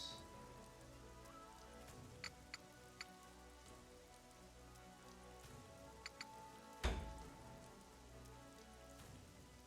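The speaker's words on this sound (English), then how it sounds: "It's raining." Steady rain patters on surfaces in the video game Utawarerumono Mask of Truth, a continuous wash with a few sharp drip ticks and one louder splash near the end, alone without talk.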